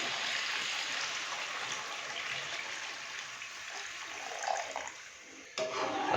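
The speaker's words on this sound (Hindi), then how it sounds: "अभी मैं इसके अंदर डालूंगा पानी" Water pours steadily into a cooking pot of browned chicken, potatoes and peas for pulao, a broad continuous splashing rush lasting several seconds before easing off.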